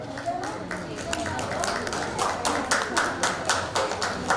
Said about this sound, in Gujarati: આપણે તાળીઓથી સ્વાગત કરશું